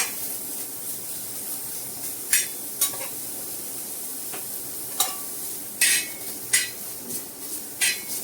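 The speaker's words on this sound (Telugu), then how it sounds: "కొద్దిగా పచ్చి వాసన పోయి కలర్ కొద్దిగా మారేంత వరకు కొద్దిగా ఫ్రై చేసేద్దాం" Onions frying in a pan with whole biryani spices for a broad bean curry: a steady close sizzle, broken by scattered scrapes and clacks of a spoon stirring against the pan.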